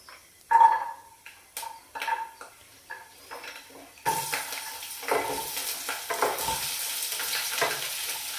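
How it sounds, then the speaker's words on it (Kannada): Onion and garlic hitting hot oil in a village kitchen pan, first a few distinct spoon clinks and scrapes against metal, then a sudden broad frying sizzle that keeps going under further stirring knocks. "ಈಗ ಈರುಳ್ಳಿ ಬೆಳ್ಳುಳ್ಳಿ ಫ್ರೈ ಮಾಡ್ಬೇಕು."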